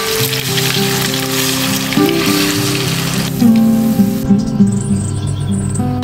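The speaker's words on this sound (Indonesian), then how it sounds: "lanjut kita mau menggoreng ayamnya ya bun" Marinated lemongrass chicken frying in hot oil over low heat, a loud continuous sizzle and crackle close up, with pops and clinks of cookware over the bubbling.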